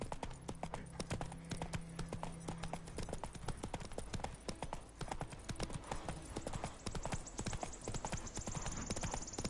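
A horse gallops in the Witcher 3 video game with a fast, steady clip-clop of hooves throughout, heard close, with a faint low hum and no speech.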